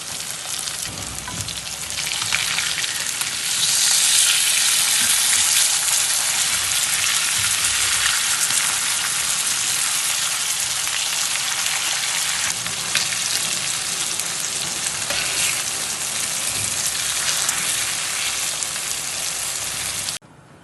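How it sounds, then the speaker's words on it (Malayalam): Spanish mackerel (neymeen) pieces frying in a pan, a loud, continuous bubbling sizzle like steady rain that stays close and even throughout, with occasional soft stirring noises. "ഇപ്പം നമ്മുടെ മീനെല്ലാം മൊരിഞ്ഞു വന്നിട്ടുണ്ട്. ഒരു സൈഡ് മറിച്ചിട്ട് കൊടുക്കാം."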